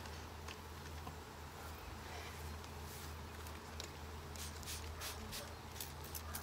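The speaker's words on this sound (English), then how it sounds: "There's so many bees in the box." A large honeybee swarm hums inside a hive box, a faint, continuous buzzing drone overlaid with light rustling and crisp clicking handling noises toward the end.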